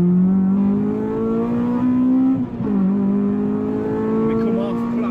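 Honda Civic EP3 engine pulling hard under acceleration, a loud, close rising drone with a brief dip mid-way, as if for a gear change, before climbing again.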